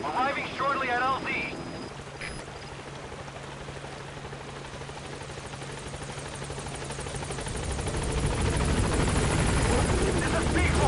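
The Pequod support helicopter approaches a landing zone in Metal Gear Solid V. Steady rotor roar builds slowly louder under a brief radio voice at the start.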